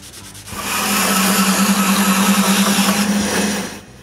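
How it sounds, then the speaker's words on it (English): Epoxy glue squeeze-out on a wooden post joint being rubbed off with a lacquer-thinner-soaked rag, a steady close scrubbing friction sound lasting about three seconds, alone with no talk. "I clean the squeeze out with lacquer thinner"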